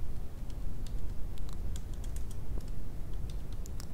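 Scattered light keystrokes on a computer keyboard while entering values into the R programming console, soft irregular clicks over a steady background hiss.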